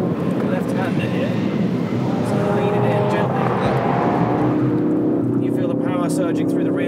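Ford Focus RS hot hatch driven hard at about 100 mph in fourth gear through a fast left-hand bend, with loud continuous engine and road roar and a driver talking over it throughout.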